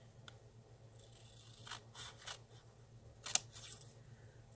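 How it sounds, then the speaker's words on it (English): Small scissors snip out foil stars for nail art, a few faint, close, crisp cuts spread across a quiet moment. "So I'm going to cut out some stars here."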